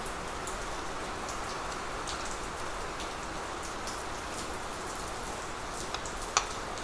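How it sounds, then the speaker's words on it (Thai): Steady rain falls outside the front of a house where people eat a gas-stove grilled pork meal, a dense even hiss of drops on surfaces with a single sharp tap near the end. "เสียงฝนรบกวนกับต้องขออภัยด้วยครับผม"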